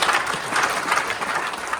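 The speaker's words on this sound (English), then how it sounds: "Let's give them a round of applause." Audience applause for newly installed officers at a Masonic lodge installation ceremony, dense steady clapping from a sizable crowd, continuous and fairly loud throughout.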